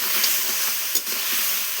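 Crab sizzles and spits in a hot frying pan, a bright continuous hiss with soft stirring scrapes and one sharper burst of spatter partway through, close and without talk.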